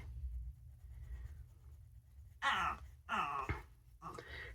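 A dog whines and moans in three drawn-out bursts over low room hum, each vocal rising and fading with short pauses between them.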